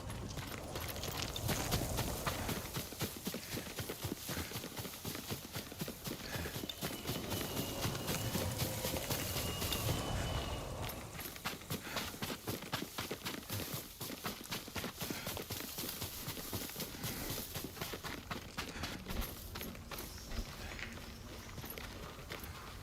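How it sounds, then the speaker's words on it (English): Horse hooves clip-clopping in the video game Ghost of Tsushima, a steady run of close, rhythmic hoofbeats lasting throughout under ambient game sound, with no voices. "Yuriko's horse. She can't be far."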